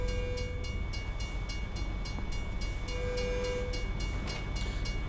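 Train in American Truck Simulator rolling past the truck, a steady mid-level rumble with repeated clicking wheel beats and a faint horn-like tone, no talking.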